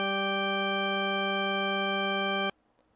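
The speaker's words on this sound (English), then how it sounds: "this sound right here is the Drawbar organ from Mario Kart 64" Drawbar organ tone from Mario Kart 64, a single steady harmonic-rich note held for about two and a half seconds before cutting off abruptly into near silence.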